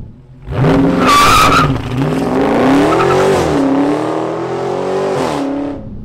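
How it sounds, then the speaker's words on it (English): A 2020 Dodge Charger Scat Pack Widebody, 485 hp, launches hard with a loud, close screech of rear tire squeal over a roaring engine that climbs in pitch as the car accelerates away. "so your rear tires are just gonna smoke, or you can launch control it"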